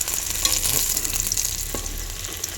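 Onions sauté in a pan for biryani, crackling in a close, continuous sizzle with light stirring scrapes.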